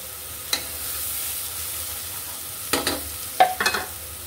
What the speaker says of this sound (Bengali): এই যে শুটকি পেস্টটা দিয়ে দিচ্ছি আমি।